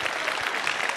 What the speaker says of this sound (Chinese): 这朋友们的掌声是最大的鼓励